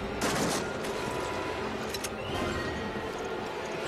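Gunfire from a weapon in Resident Evil Revelations gameplay, a burst of rapid shots and a few louder cracks over a busy background of game noise.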